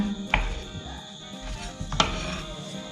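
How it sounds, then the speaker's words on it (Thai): A knife cuts boiled, peeled potatoes into pieces, giving a few distinct soft chops against a cutting board, close and spaced irregularly, with light clinks and faint kitchen noise between strokes. "เราก็จะมาหั่นเป็นชิ้นๆกันค่ะ"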